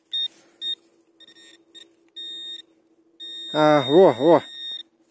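A metal detector sounds short high beeps and longer tones while searching, then a warbling signal over a low hum; someone speaks briefly nearby.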